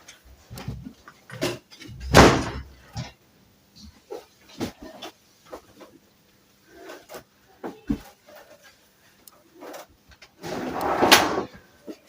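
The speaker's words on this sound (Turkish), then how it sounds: "Kapı neden açıldı?" A home door opens and closes amid household cleaning, with scattered knocks, clacks and thumps over about twelve seconds, two louder bursts standing out, close and intermittent, with faint voices at times.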